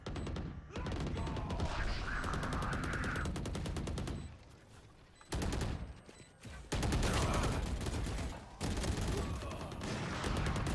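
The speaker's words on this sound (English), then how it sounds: "Shots coming left and right." Rapid bursts of automatic and single gunfire from a Valorant esports match, loud and dense, coming in long clusters broken by a brief lull and then resuming with more exchanges back and forth.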